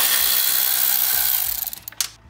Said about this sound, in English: We use a 10 mil to unbolt the coolant reservoir.